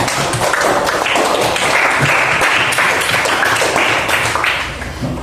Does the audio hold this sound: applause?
yes